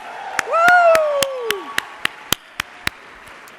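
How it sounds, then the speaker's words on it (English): Scattered claps from an audience for President Obama, about ten sharp separate hits spread over a few seconds, with a loud cheering whoop near the start. "President Obama, let's give him another applause."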